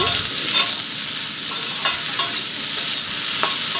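Okra fry in the South Indian style sizzles in a pan while being stirred, loud close frying hiss punctuated by repeated scrapes of the spatula, with no talking.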